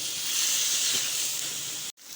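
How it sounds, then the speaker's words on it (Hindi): Meat frying in a pan on the stove, a steady close hissing sizzle that runs continuously before a brief sharp cut near the end. "अब देख सकते हैं कि ये फ्राई हो रहा है"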